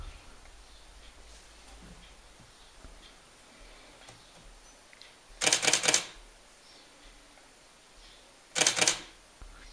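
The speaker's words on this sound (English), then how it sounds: "Camera's set on high burst rate at the moment, that's why it's firing lots of pictures." A Pixel Pawn wireless flash trigger fires a camera shutter on high burst rate, giving two short, crisp rapid-fire bursts of clicks a few seconds apart over quiet background hiss.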